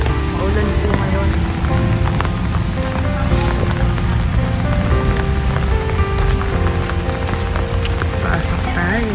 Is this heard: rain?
yes